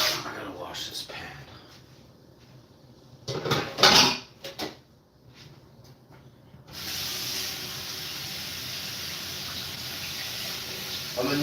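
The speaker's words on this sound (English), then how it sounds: "I gotta wash this pan." Pan being washed at a kitchen sink: clattering scrubs and clinks of cookware in the first part, then steady running tap water hissing through the rest, with brief talk mixed in.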